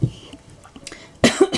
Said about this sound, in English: Sorry for the coughing, I've got a cold that I can't quite get rid of.